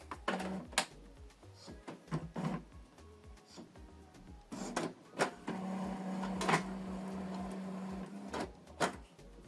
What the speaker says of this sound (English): Switch the printer on from this button.